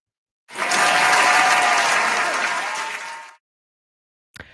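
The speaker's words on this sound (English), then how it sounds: "Round of applause." Studio audience applause bursts in suddenly, a bright, dense clapping swell that holds for about three seconds and then cuts off cleanly, followed by a brief faint sound.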